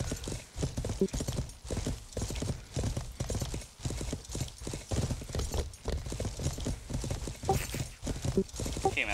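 Horse hooves clip-clopping in the medieval game Life is Feudal, a steady, close rhythmic trot of sharp hoof strikes running the whole time, with a possible brief whinny and some voices in the background.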